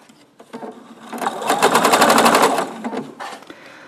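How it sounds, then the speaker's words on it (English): A sewing machine stitches a seam in fabric, its needle hammering in a rapid rhythmic burst that builds, holds for about two seconds, and eases off, close and loud. "I like to sew with my needle down"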